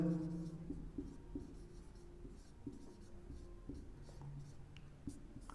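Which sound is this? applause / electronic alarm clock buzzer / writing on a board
writing on a board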